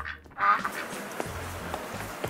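A short burst of duck quacking, added as a sound effect, stands out near the start over quiet background, followed by faint footsteps-like taps.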